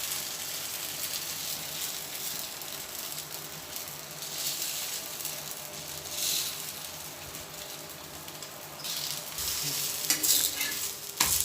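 Makki (maize flour) roti frying in ghee on a pan, a steady close sizzle running throughout with scraping and stirring scrapes over it, no talking.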